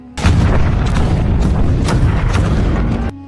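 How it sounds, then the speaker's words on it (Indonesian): A heavy Ottoman cannon fires in a film battle scene of the siege of Constantinople, a deep, loud boom followed by a rumbling roar that sustains for about three seconds before cutting off. "Meriam itu hanya bisa menembak setiap 3 jam dengan resiko dapat meledak kapan saja."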